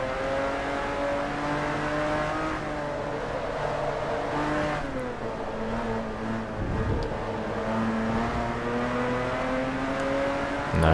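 Race car engine in Forza Motorsport 3 held at steady high revs while drifting, a continuous loud droning whine with shifting pitch and brief dips, alone without talk.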